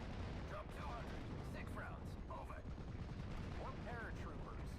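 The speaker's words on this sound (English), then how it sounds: "I'm gonna use these mortars." Mortars fire in the World War II strategy video game Steel Division, giving a dense, continuous wash of distant gunfire and booming artillery with faint whistling shells throughout at low overall level.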